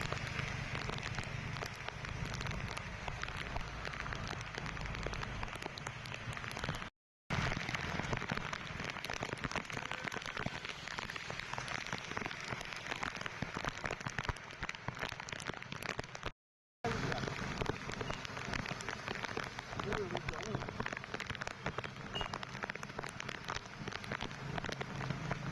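Steady rain pours down on surfaces in a dense, even hiss that stays loud and continuous throughout, broken only by two brief silent gaps.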